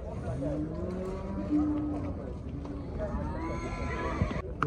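Horses whinny and neigh repeatedly at a busy horse market in Jalal-Abad, with overlapping calls over a dense crowd murmur and livestock noise, and a long loud neigh in the middle.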